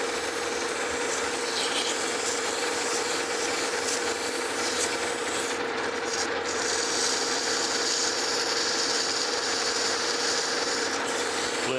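Fine-grit emery cloth polishes a machined metal journal on a cane mill roller, giving a continuous close scratchy rubbing hiss that stays steady for the whole stretch.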